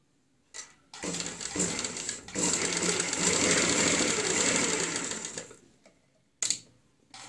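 A sewing machine stitches the collar of a high-neck kurti. It runs in one steady, loud burst of about four seconds, with quiet handling sounds before and after.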